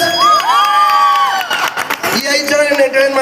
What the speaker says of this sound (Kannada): ಜೋರ ಚಪ್ಪಾಳೆ ಬರಲಿ